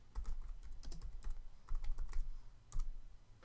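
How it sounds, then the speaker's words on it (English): Rapid typing on a computer keyboard while naming a new layer in Photoshop, an uneven run of close, crisp key clicks with short pauses between bursts, heard alone without speech. "I'm going to rename this Skin Smooth"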